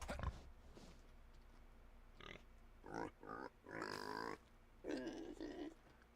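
Pigs grunting and oinking in the medieval survival game Medieval Dynasty, several short, nasal grunts in an uneven series at moderate volume, heard without talking over them.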